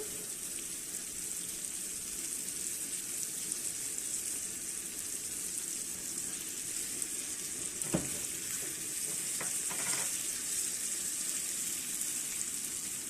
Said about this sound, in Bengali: টমেটোটা একটু সিদ্ধ হয়েছে, এখন হচ্ছে টুনা ফিশটা দিয়ে দিব।